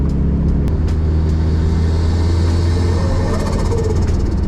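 A turbocharged Mazda Miata's engine rumbles steadily and loudly from inside the car while driving through Brisbane streets, a deep continuous drone with road noise underneath.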